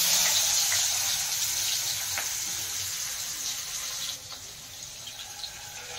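Chopped onion frying in hot oil in a pan for a fish curry, giving a steady hissing sizzle that fades slightly over several seconds, with a few small clicks and no talking.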